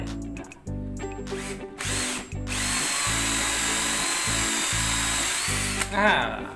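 An electric drill with a multipurpose bit whirs in short bursts, then runs steadily as it bores into wood, loud and close, before winding down at the end.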